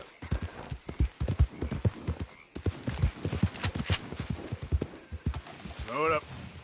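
Horse hooves clip-clopping in the Red Dead Redemption 2 online video game, a brisk steady beat close by, with a voice spoken over it and a short neigh near the end.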